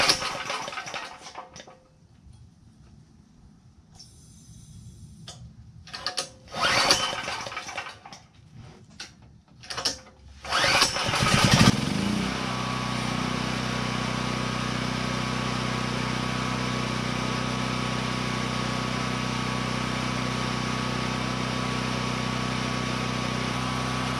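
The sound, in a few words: Predator 8750 generator engine starting after priming and choke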